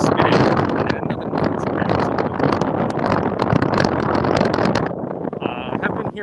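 Wind buffeting a microphone outdoors at SeaWorld Orlando, a loud, continuous rumbling roar that barely lets up, with a brief tonal whine near the end.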